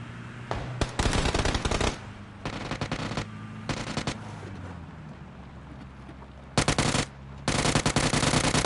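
Gunfire in the shooter game PUBG rattles out in loud bursts of rapid automatic fire, several long volleys separated by short pauses, close and dominant.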